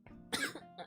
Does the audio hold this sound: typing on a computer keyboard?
no